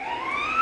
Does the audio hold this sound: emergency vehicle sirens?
yes